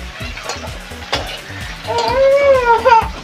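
Chopped onion hitting a hot frying pan while making bheja fry, bursting into a loud hiss and sizzle after a few clanks of utensils, close, with a brief high tonal sound near the end.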